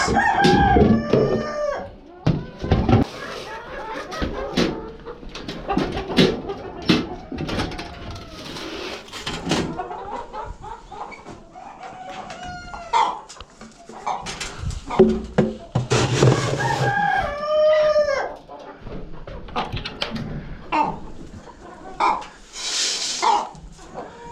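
Hens cluck and chatter close by while a rooster crows repeatedly, with scattered wing flaps and bursts of poultry calls.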